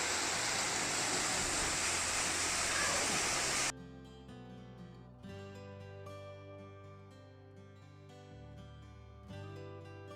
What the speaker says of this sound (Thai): น้ำตกแห่งนี้ตอนฤดูน้ำหลาก สวยงามมากค่ะ น้ำตกจะแรงกว่านี้